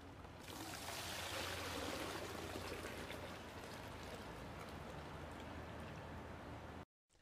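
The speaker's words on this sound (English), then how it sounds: "And empty the sudsy water into a bucket." Soapy water from a hydroponic tank pours steadily into a bucket with a rushing, bubbly splash that continues for several seconds before cutting off abruptly.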